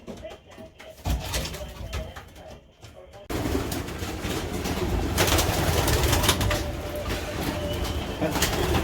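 Young racing pigeons in a loft coo softly at close range, repeated low throaty calls amid shuffling and rustling, with a brief burst of wing or cage noise.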